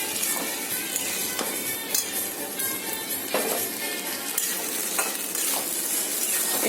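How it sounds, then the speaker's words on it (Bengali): A spatula stirs chopped banana flower frying in a pan, a steady sizzle running throughout with repeated scraping strokes and light metallic clinks at an even, unhurried pace. "এইভাবে নাড়াচ্ছি খুন্তি দিয়ে, জলটাকে শুকিয়ে আনার জন্য।"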